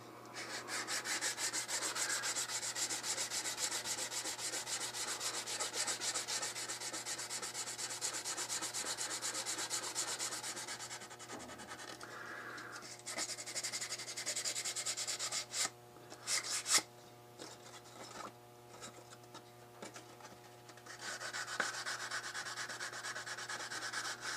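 Sandpaper rubs steadily back and forth across a wooden gun stock being refinished, a close, continuous scratchy sanding that runs on with a brief pause and a few uneven strokes midway.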